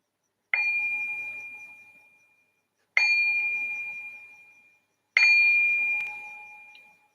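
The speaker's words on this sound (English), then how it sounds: "I'm going to ring the bell to signal the start of this short meditation." A meditation bell struck three times at steady intervals to open a short sitting, each clear ringing tone sounding alone and fading slowly into silence before the next strike.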